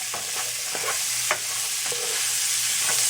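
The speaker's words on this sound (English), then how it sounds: "I'll just mix the spices, oil and celery" Spices, oil and celery being stirred in a hot pan, a steady sizzle under repeated spatula scrapes and taps, close and loud, with no voices.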